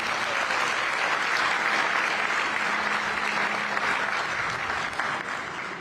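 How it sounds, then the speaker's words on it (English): A rail opening ceremony crowd applauds loudly and steadily, dense clapping that holds at full strength throughout and eases slightly at the very end. "He deserves an extra round of applause."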